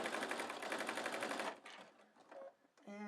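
A sewing machine stitches a rope coil basket with a fast even run of needle strokes for about a second and a half, then stops, leaving faint handling noises and a brief tonal whir.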